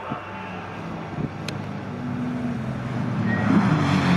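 TVR and BMW race cars lapping at Snetterton during a modern classics race, with engine drone rising and passing at a distance under wind noise.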